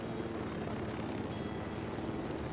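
A helicopter from the game Ghost Recon Wildlands drones steadily throughout, a dense, continuous rotor and engine roar at a constant moderate level with no break or change.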